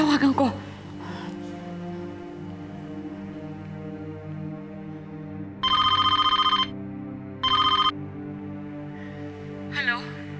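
Telephone ringback tone on an outgoing call, two sustained electronic ring bursts with a gap between them, heard after a brief voice at the start, with low room hum throughout.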